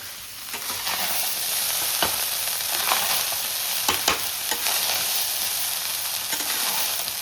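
Jeera rice with raisins being stirred in a hot pan, a loud, steady sizzling hiss with occasional sharp spoon scrapes against the metal, close up and with nobody speaking.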